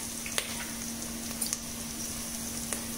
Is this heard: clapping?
no